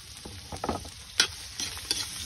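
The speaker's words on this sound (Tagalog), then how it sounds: "lagay natin itong ating bawang na napakarami" Chopped garlic, a large amount, hits melted butter in a pan for a garlic butter seafood dish, giving close crackling sizzles with stirring scrapes and spatula knocks.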